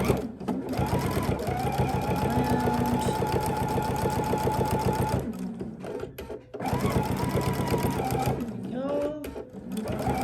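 A sewing machine stitches bias binding in two steady runs of fast, even needle clatter, broken by a short pause where the needle is set down and the fabric pivots at a corner.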